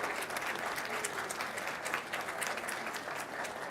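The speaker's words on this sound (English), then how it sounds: "I think they deserve a big round of applause." Steady applause from a convocation ceremony audience, dense and even throughout, a full hall clapping without pause.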